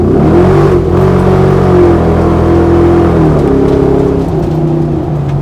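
A Land Rover Defender 110 accelerates hard on kick-down with its exhaust valve closed, giving a loud, steady engine drone whose pitch rises and dips as it pulls through the gears. No one speaks.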